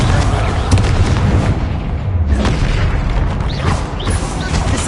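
Explosions from the Confringo spell in Hogwarts Legacy boom out in dense, continuous blasts and crackling bursts, loud and close, with a short lull midway.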